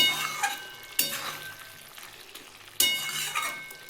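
Paneer and okra curry with a little ghee is stirred in a pan, giving a soft continuous sizzle punctuated by three sharp spatula strokes against the metal.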